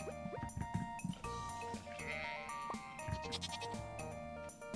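Sheep bleating in the farming game Stardew Valley, a short cartoonish bleat heard over the game's layered background music and chime-like effects, fairly quiet overall.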